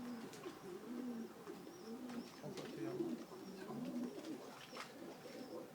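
Pet pigeons or doves coo softly in repeated low phrases at a bird keepers' cafe on the Mediterranean coast, with faint chirps and light background noise.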